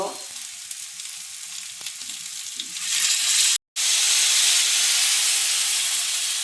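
Ground mustard paste hits a hot pan for a Bengali ridge gourd and fish curry, setting off a strong, steady sizzle that swells after a quieter start and keeps hissing close up after a brief break.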